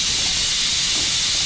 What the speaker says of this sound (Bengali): এই যে ভাজাটা হচ্ছে, আলু আর বরবটি ভাজা